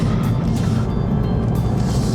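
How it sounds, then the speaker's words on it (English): Engine of a 2021 Kia Seltos while driving, a steady low rumble with road noise inside the cabin, subdued and even throughout. "The noise from the engine is fairly subdued."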